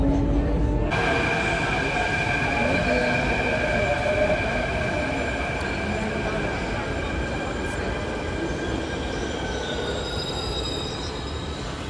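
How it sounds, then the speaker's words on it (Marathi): Mumbai metro train ride setting out from Ghatkopar, a steady onboard rumble with sustained high wheel squeal and humming tones running throughout at a fairly constant level. "आता मेट्रोने आम्ही जाऊ."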